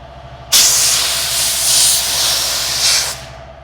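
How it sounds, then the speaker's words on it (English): Shop compressed air blasts into the sunroof track of a Foxbody Mustang, giving one loud, close, continuous hiss that starts abruptly, swells slightly a few times and then cuts off. "get some shop air going and blow some of this track area out"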